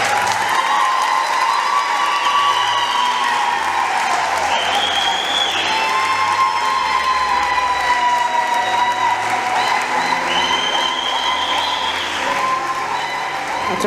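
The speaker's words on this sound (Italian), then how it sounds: "Possiamo fare un applauso." Wedding guests applaud the newly married Alessandro and Dora at their church ceremony. The clapping is loud, sustained and dense, with cheering and shrill, tonal calls rising over it for the whole stretch.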